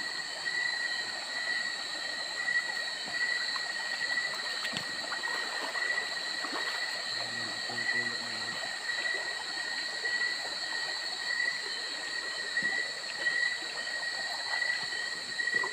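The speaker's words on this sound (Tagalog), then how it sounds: "May maliit na ilog dito" A steady rushing of a small flowing river fills the scene, joined by constant high-pitched insect drones, with no voices.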